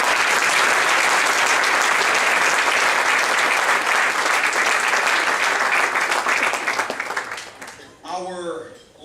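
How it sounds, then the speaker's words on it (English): Sustained applause from a seated crowd at a sports hall of fame induction luncheon, loud and steady for about eight seconds before tapering off into a brief murmur of voices. "We give these people a round of applause."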